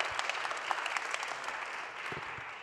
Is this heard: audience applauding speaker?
yes